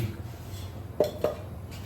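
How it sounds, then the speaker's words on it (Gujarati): Two quick metallic clinks ring out as a pan for heating ghee is picked up and set down against a quiet kitchen hum. "આ રીતનું એક પેન લઈશું."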